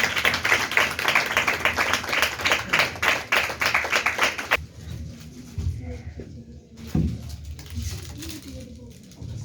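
At a church service, a congregation claps rhythmically and loudly for several seconds, then stops abruptly, leaving low murmurs and room noise.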